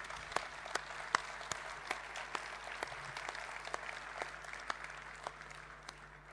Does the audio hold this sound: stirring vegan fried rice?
no